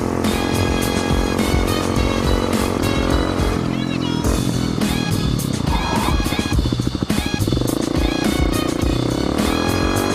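A dual sport motorcycle cruising around town, its engine droning steadily throughout with a brief dip in revs midway, loud and close under wind noise.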